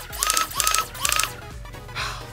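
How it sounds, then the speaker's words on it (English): An HC Diana brushless flywheel Nerf blaster firing rapid shots in quick succession, each a sharp whirring, snapping burst, close and loud, with a brief lower spin-down afterward. "a very quick 3-shot burst that feels absolutely lovely"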